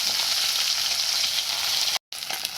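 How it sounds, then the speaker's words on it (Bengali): Lata fish frying in hot oil, a dense steady sizzle and crackle that runs evenly before a brief cut, then resumes. "আমি হালকা করে ভেজে নিচ্ছি"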